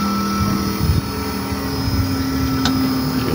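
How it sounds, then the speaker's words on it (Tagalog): A TCL split-type inverter air conditioner compressor with an E4 error runs in a steady, close, loud drone with a sustained tonal hum and a broad rushing noise, and no one speaks. "Nag-iiba na yung tunog ng compressor."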